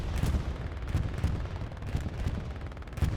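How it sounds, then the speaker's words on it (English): A bombing run strikes in the WWII game Hell Let Loose, a dense stretch of rumbling explosions and crackling gunfire continuing without break at moderate distance. "There's a bomber run coming in."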